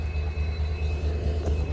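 Low, continuous rumbling of a train rolling along, steady and fairly close, with a faint high squeal over the droning wheels.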